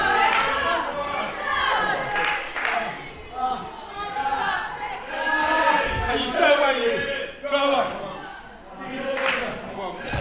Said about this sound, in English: The crowd summoning Victor Logan on.